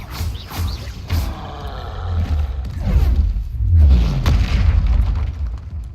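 Spell explosions from the Bombarda charm in Hogwarts Legacy, a run of deep booming blasts with rumbling low-end roars and crackling bursts that swell and overlap across the clip, loud and close with no talk.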